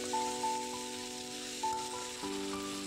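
Tomato, salt and turmeric fry with chopped kohlrabi in a pan in a village kitchen, giving a steady, even sizzle under a faint constant hum with a few soft stirring knocks.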